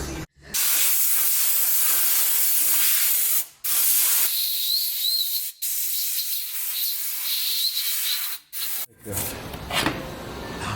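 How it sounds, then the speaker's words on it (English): Abrasive rubbing scrapes back and forth in long, loud strokes broken by short pauses, close up, as emery paper is worked over the metal mating surfaces of a Mopar 8 3/4 rear axle. "Piece of emery paper or a sanding block or something run over these mating surfaces."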